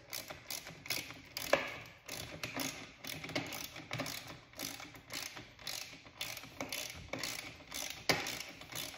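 Ratchet clicking as it retightens a part on a Westinghouse WPX3400 pressure washer, a close, steady run of quick pawl clicks in repeated short strokes, with no talking.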